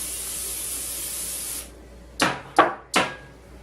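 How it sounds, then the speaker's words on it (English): Cooking spray sprayed onto a Pyrex dish, heard as one long steady hiss followed by three short sharp knocks or taps after it cuts off, close and clear with no talk. "So I'm going to take my cooking spray, take another Pyrex dish,"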